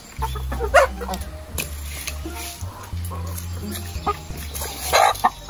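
Chickens on a Kenyan village homestead cluck excitedly while feeding on trapped termites, a steady busy flock chatter with scattered louder calls over a low rumbling background.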